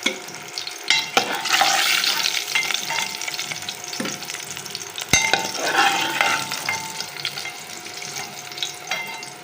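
Eggs sizzling and frying in hot oil in a metal cooking pot, steady crackling spatter with occasional scraping stirs and sharp clinks of a utensil against the pot.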